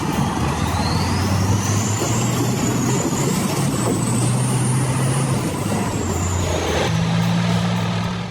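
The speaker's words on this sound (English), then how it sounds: "A truck with a load of wood overcoming the difficult terrain of a harsh winter." A heavily loaded logging truck hauling wood across harsh winter terrain: a loud, steady engine drone runs throughout, with a thin rising and falling whine above it and a shift in engine tone near the end.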